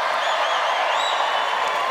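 A comedy club audience cheers and applauds in a sustained, dense wash of voices and clapping, steady and fairly loud across the whole stretch.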